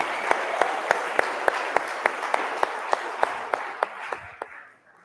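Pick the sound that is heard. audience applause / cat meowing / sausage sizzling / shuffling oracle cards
audience applause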